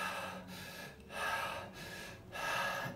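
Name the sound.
demonstration of shallow breathing up into the neck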